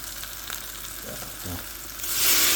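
Onion sizzles in a pot for chicken rfissa, a steady close hiss of frying that swells louder and brighter toward the end.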